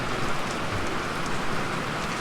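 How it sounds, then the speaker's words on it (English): Steady rain falls on a vegetable farm, a loud, even wash of patter and drips that continues unbroken with no talking. "it is still raining, which we're happy about"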